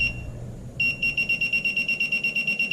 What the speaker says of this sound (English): It's got to be a perfect distance away for it to give you the ferrous tone ID